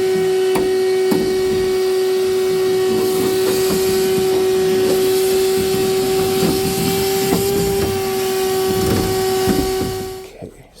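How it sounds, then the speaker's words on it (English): A shop vac runs continuously while cleaning out the inside of a 57-inch model boat hull, a loud steady whine with a hissing airflow and shifting suction noise, shutting off at the very end. "Basically use a shop vac and vacuum out everything out the inside"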